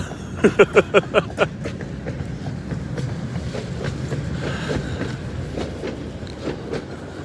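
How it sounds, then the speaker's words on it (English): A tram passes along a city street at evening, with a short burst of rhythmic wheel clacks near the start followed by a steady rolling rumble as it goes by, fairly close, with no talk. "the next tramway is going by"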